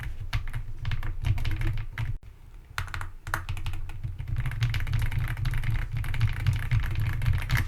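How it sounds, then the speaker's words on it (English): Steady, rapid typing on a new computer keyboard with a soft, creamy keystroke sound, heard up close and fairly loud for nearly the whole stretch, with one brief pause partway through. "I got a new keyboard, which I absolutely love."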